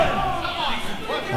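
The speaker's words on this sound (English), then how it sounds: "Float over suplex." A wrestler is slammed onto the mat by a float over suplex during a professional wrestling match, a brief impact thud buried in steady crowd noise and live commentary.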